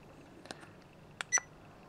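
An Airon ProCam 4K action camera gives a short electronic beep near the end, clear and close amid faint clicks and a quiet room background.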